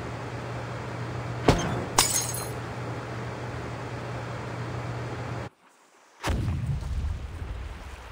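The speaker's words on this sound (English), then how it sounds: "Sounds like some kind of explosion near the clinic." An explosion near a clinic in the video game Reverse: 1999 comes as two sharp, loud blasts with a glassy shattering crash over a steady hum, then a brief silence before the hum returns.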